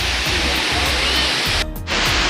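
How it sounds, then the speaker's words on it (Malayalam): Ezharakundu waterfall in Kerala roars with a steady, loud wash of rushing water. It sounds close and continuous, broken only by a brief dip near the end. "ഏറെക്കുണ്ട് വെള്ളച്ചാട്ടം"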